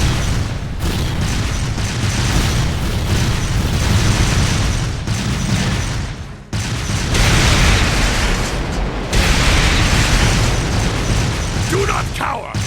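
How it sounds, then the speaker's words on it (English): Artillery barrage in the video game Trails of Cold Steel 2, dense rumbling booms and blasts rolling on continuously with brief drops, loud and close. "Left flank, fire a barrage to cover your retreat!"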